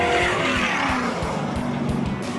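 An off-road race truck engine screams above 6,000 RPM, loud and sustained, with tires squealing through the roar.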